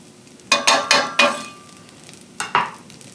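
Minced garlic stirred in a hot pan with a utensil, a few sharp scraping and clinking strokes close by, then a short pause and two more strokes, with a faint sizzle underneath and no talking.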